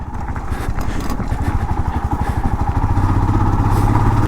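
Motorcycle engine running steadily up close on a ride from India toward Nepal, a low throbbing drone that holds constant throughout, with rhythmic thumps and a firmer low hum building toward the end.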